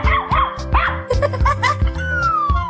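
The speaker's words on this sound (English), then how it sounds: "Dog." A cartoon dog barks in a quick series of short, loud yaps and yips with a bouncy rhythm, close and clear over a light musical backing that ends on a falling whistle-like tone.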